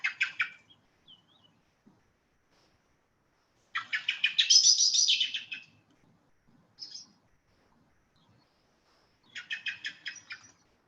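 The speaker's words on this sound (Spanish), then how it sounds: "Aquí tenemos al mirlo y esta es una de las vocalizaciones del mirlo." Bursts of fluttering, chattering Eurasian blackbird calls separated by silent gaps: one short phrase, a longer rising burst, a brief note, then another chattering phrase.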